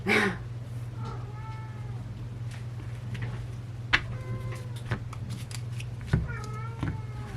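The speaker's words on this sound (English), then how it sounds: "that is my cat on the other side of the door having a fit" A cat meows repeatedly, muffled from the other side of a door, over a steady low hum with occasional soft clicks.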